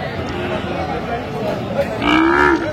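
A Sahiwal bull calf at a busy cattle market gives a low bellowing moo near the end. Steady crowd chatter and noise from the market run throughout.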